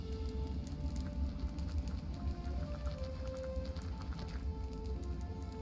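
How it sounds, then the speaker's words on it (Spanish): Steady soft rain in the video game Clanfolk patters continuously under a low hum, with faint tonal game sounds drifting in and out; no voices are heard. "Ah, porque está lloviendo."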